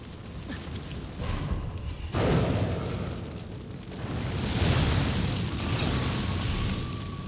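A fire wheel enemy in the Nioh 2 video game roars and bursts with heavy, booming explosive whooshes, loud and close, swelling and rumbling over several seconds.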